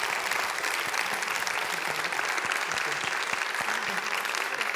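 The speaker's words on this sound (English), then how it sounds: "I just wanted to give you guys a round of applause and say thank you" An audience applauds speakers at a community panel, dense steady clapping that fills the room at even loudness throughout with no break.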